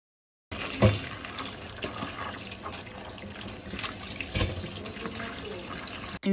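Tap water runs steadily into a sink while salted saltfish is washed to rinse off excess salt, a continuous close splashing rush with a few brief knocks.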